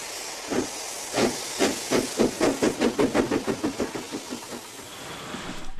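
A steam locomotive at Crewe railway station works with a sharp, rhythmic run of exhaust chuffs over a steady hiss. The beats quicken and then fade away, leaving the hiss alone at the end.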